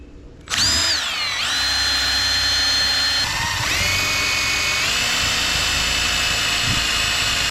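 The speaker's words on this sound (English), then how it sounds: "We're just gonna pre-drill 2 holes." A power drill bores pilot holes into wood for a raised garden bed, starting sharply and whining loudly and steadily up close, its pitch dipping briefly a few times as the bit bites.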